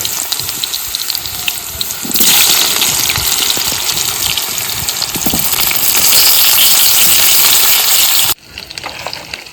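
Potatoes frying in hot oil for Kashmiri aloo dum, a loud, dense sizzle that swells after the first couple of seconds, holds steady, then drops off sharply near the end, no talking.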